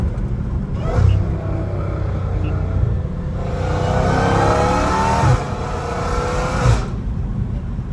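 A Dodge Hellcat Redeye accelerates hard with a deep rumbling engine note, rising through revs with audible breaks at gear shifts, heard from inside the car with faint talk.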